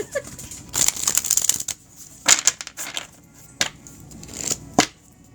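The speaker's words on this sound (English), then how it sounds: "You're hearing me shuffle these at least twice." A deck of cards being shuffled twice, with bursts of riffling and snapping cards close by, separated by short pauses and no talk.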